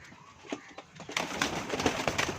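Pigeons at a loft in Dinga city, with soft low coos and a flurry of wing flaps and rustling growing louder midway, close and busy with no talk.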